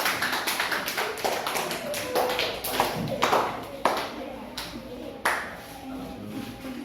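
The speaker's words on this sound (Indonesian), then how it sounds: "Ayo kasih tepuk tangan untuk kelompok 1." Scattered classroom claps and taps as students applaud a discussion group, uneven individual hits of varying loudness with voices mixed in, tapering toward the end.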